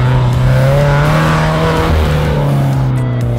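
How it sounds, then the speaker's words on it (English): Supercharged Scion FR-S/Subaru BRZ/Toyota 86 fitted with XForce Tri-Y headers and a 3-inch header-back exhaust, giving a loud, steady drone from close by with no pauses and no talk. "actually features a supercharged engine, and our Tri-Y headers teamed up with a 3-inch exhaust"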